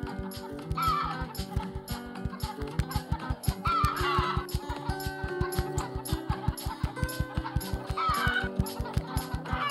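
Cartoonish chicken clucks from the mobile game Egg, Inc, repeated in quick succession over a steady rhythmic ticking game soundtrack with tonal music.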